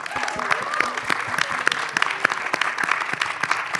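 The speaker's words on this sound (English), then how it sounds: "let's give them some love and clap for them" An audience at a dancehall festival panel discussion applauding, a dense patter of many hands clapping steadily for a few seconds, with a voice briefly audible over it.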